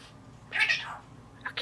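A pet parrot imitates a cat's meow with a single drawn-out, nasal mew, followed by a short chirp, close and fairly loud in a quiet room.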